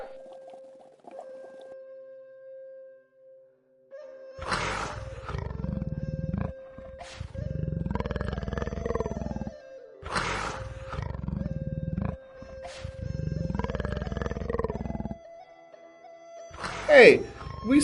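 Tiger roars sounding out in repeated bursts, several deep growling calls in succession with a faint steady tone and short gaps between them.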